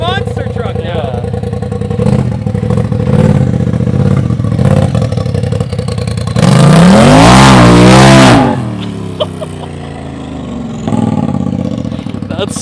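A Polaris RZR XP Turbo side-by-side fitted with an MBRP exhaust idles with a loud, rough burble, then revs hard for about two seconds before dropping back to idle, close by, with people talking over it.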